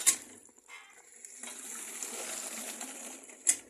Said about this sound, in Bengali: এই যে পানি যাচ্ছে, হ্যাঁ দেখেন কিভাবে পানি যায়।